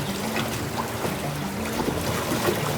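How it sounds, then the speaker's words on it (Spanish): Steady, enveloping wash of Magdalena River water heard from a floating dock, a continuous broad rushing with faint lapping and no voices. "Yo quiero que ustedes escuchen conmigo cómo suena el río en el embarcadero flotante donde"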